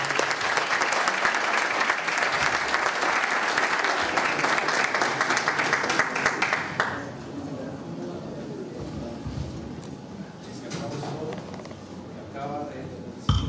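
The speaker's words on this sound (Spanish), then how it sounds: "El aplauso que acaba de recibir usted es la expresión de nuestro agradecimiento" Audience at a university science session applauds a speaker, Doctor González, with steady, dense clapping for about seven seconds before it thins out and a voice takes over.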